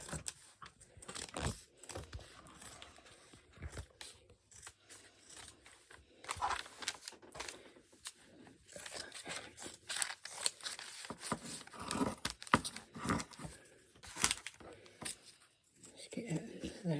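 Scissors snip through fabric pieces for a hot water bottle cover, giving repeated close crisp cuts and rustling in an irregular rhythm, with quiet talk mixed in.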